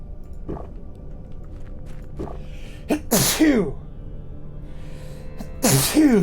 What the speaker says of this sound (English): Apologize for sneezing.